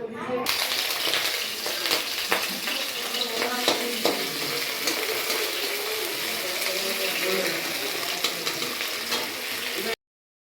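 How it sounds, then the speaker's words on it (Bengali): Bitter gourd frying in a small amount of oil in a home kitchen pan: a continuous crackling sizzle with occasional stirring scrapes and clinks, close and steady for about ten seconds before cutting off. "আমি সামান্য একটু তেল দিয়ে দেবো, দিয়ে উচ্ছেটা ভেজে নেব"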